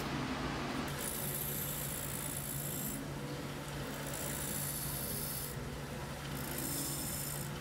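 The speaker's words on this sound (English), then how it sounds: "I'm just grinding out the forge marks on the surface there" A belt sander grinds forge marks off the surface of a knife blade made from a leaf spring, a steady abrasive rasp running throughout with a constant motor hum and brief higher-pitched stretches as the steel meets the belt.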